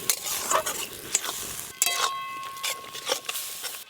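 Spice paste for a fish curry being sautéed with salt, turmeric and a splash of water, a wet sizzle with intermittent scraping and clinking of a spatula against the pan at close range.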